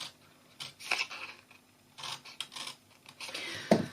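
Scissors cut through card along score lines while making a simple glue box, giving a few short, close snips and rasping slides separated by quiet pauses.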